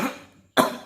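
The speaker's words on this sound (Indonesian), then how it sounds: "kita batuk karena keselak gitu" Two sharp coughs from someone choking on food or drink, the first burst followed by a short gap and a louder second cough, close and dry with no talk.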